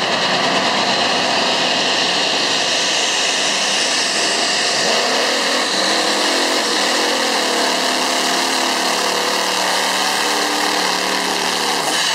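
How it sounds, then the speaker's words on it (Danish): The tractor Slædehunden pulls a sled with a loud, continuous roaring engine and a dense whine that holds steady throughout. The pitch shifts slightly partway as it strains under load. "Så er vi klar til at sende traktoren slædehunden afsted."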